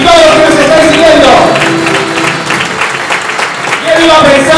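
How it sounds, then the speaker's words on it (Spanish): Applause from the audience at a political rally for a newly formed provincial party, dense sustained clapping filling the room under a speaker's amplified voice. "Un fuerte aplauso para todos los que estáis aquí y todos los que nos estáis siguiendo."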